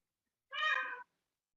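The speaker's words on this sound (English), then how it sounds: "actually that might be the peacock" A single peacock call, a brief nasal, cat-like wail lasting about half a second, moderately loud and alone against silence.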